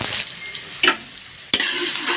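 Garlic and onion sautéing in oil for pancit guisado, a close, steady sizzle with a couple of bursts of stirring and a sharp clack of a utensil against the pan.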